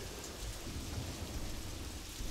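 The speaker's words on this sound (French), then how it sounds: "On voit une colonne de pluie au-dessus de nous, qui est vraiment au-dessus du personnage" Rain and thunder in the King Kong video game, a steady, dense downpour hissing with low rumbling thunder underneath, continuous at moderate level with no talk.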